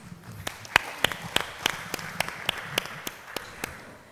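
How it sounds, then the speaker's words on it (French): Scattered clapping from an audience at a social entrepreneurship conference on alternative education, a dozen or so sharp claps in an uneven rhythm, fairly faint and thin, as if from a small group. "Je pense que ça s'applaudit."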